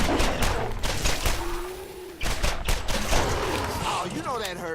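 Pistol gunfire in the Borderlands video game, aimed at a spitter skag from a raised spot: several sharp shots in quick bursts with a gap in the middle, mixed with game effects, no speech.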